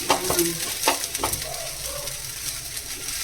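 Sago pearls seasoned with salt fry in a pan while a spoon stirs them, giving a soft steady sizzle with a few light scraping clinks early on, faint and close with no talk.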